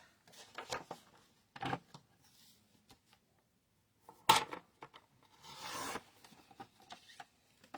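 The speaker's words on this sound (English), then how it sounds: "I'm going to go ahead and trim the sentiment" Paper sentiment for a handmade card being trimmed, heard as several short, close scraping and rasping strokes separated by quiet gaps.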